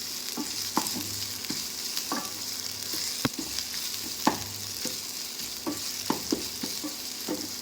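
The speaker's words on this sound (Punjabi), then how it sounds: "ਆਪਾਂ ਥੋੜਾ ਜਿਹਾ ਤੜਕਾ ਲਾਵਾਂਗੇ ਇਹਦਾ" Hot oil sizzles steadily up close as spices and green chili temper for mustard greens, while a utensil scrapes and taps the pan in irregular strokes.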